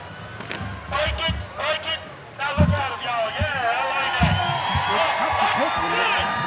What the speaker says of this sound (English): Do you hear the crowd? This is the most excited this crowd's been